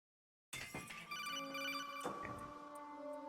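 An incoming-call phone ring from the video game Metal Gear Solid 2 starts abruptly and rings steadily with bright, sustained electronic tones, fairly loud and heard alone.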